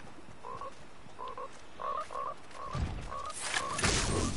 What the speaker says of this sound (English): I'm gonna shoot one of these frogs in a second if I keep hearing them.